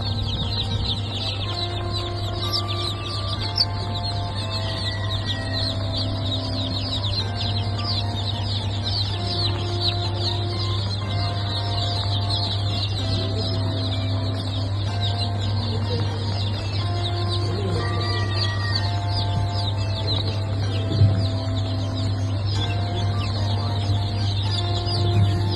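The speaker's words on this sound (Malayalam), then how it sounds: "ഇതെല്ലാം നാടൻ കോഴിക്കുഞ്ഞുങ്ങളാണ്, തനി നാടൻ കോഴിക്കുഞ്ഞുങ്ങളാണ്. ഇതെല്ലാം കരിങ്കോഴി കുഞ്ഞുങ്ങളാണ്, കടക്കനാഥ് കരിങ്കോഴി കുഞ്ഞുങ്ങളാണ്." Newly hatched native chicks and Kadaknath black chicks chirp constantly in a hatchery, a dense chorus of many small peeping voices over a steady low mechanical hum.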